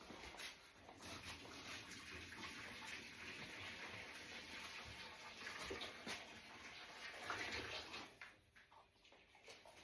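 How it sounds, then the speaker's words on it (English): Hot water poured into a dish at home, a steady broadband rush of liquid flowing and splashing at close range for several seconds, with no voices. "Right, let's get this hot water in that dish."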